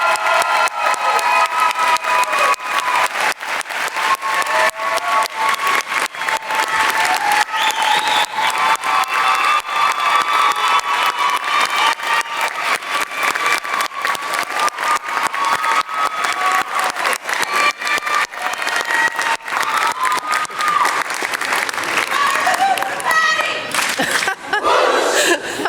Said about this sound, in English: please join me in a great round of applause in appreciation of Professor Hunter's dedicated